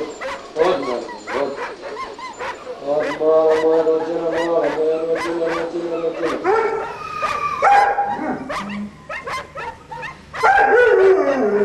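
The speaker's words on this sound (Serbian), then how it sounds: "U novosadskom azilu za pse uhvati se oko 3000 pasa lutalica godišnje." Stray dogs at a city dog shelter bark, yip and whimper in a loud, busy chorus of overlapping calls, some near and some farther off, with a person speaking over them.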